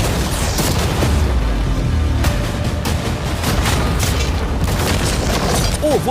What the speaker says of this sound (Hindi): अब हमारी नई यॉट पर कैनन्स को शूट करने वाले हैं।